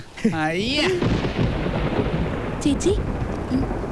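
Deep thunder rumbles steadily throughout, with a person speaking briefly over it at the start and a few faint voice sounds later.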